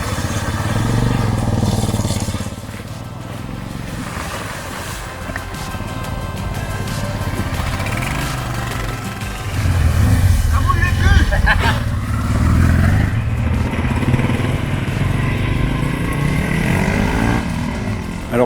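A motorcycle engine revs and accelerates hard on a dirt track during a long-distance off-road trail adventure, a loud steady drone with rising surges, heard close by under a voice talking.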